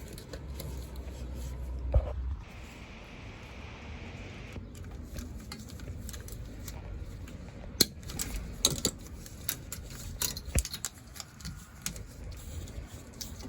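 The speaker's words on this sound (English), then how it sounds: "Tighten this lower one down. I just have a ratchet." Ratchet tightening the lower rear shock nut on a 2020 Toyota Tacoma: faint, quick metallic clicking in short bursts, with scattered taps and clunks and quiet pauses between them.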